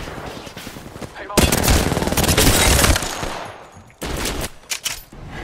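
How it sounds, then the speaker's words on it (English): Shotgun and other gunfire in the video game Apex Legends: a loud, dense burst of rapid shots, a drop-off, then a second cluster of sharp blasts, with faint game noise between. "it's a shotgun"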